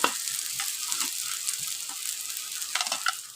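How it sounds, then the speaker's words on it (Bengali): Pumpkin pieces frying in a wok, a steady close sizzle of hot oil that swells and sputters in short bursts of crackle throughout. "আর আলাদা একটা কড়াইতে আপনার কুমড়োটা ভেজে নেব।"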